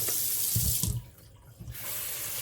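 Cold tap water runs into a pot for broth, a steady splashing stream that briefly thins midway, then resumes at full flow.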